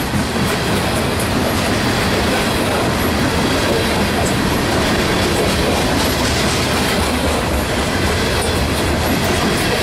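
A freight train passes through a rail yard, giving a loud, continuous rumble with steady wheel clatter and faint squeals that fill the whole stretch, with no voices.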